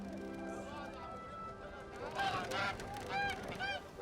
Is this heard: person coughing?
no